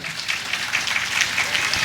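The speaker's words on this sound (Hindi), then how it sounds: "एक बार ताली की सेवा हो जाए।" An audience claps together at a Bhagavat Katha religious discourse gathering, a dense, loud and continuous wash of applause heard up close, with no speech over it.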